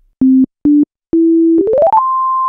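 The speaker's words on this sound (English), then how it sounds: "Logic defaults to loading an instrument that plays a sine wave on each new software instrument track." Sine wave tones from a default Logic Pro software instrument: two short beeps, a longer held note, then a quick run of rising notes ending on a sustained higher tone, clean and alone.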